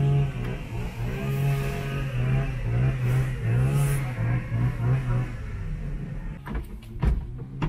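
Engine of a scrap Tofaş car with a throttle fault racing on its own, a steady loud drone with rising and falling revs, close by, followed by a few sharp knocks near the end.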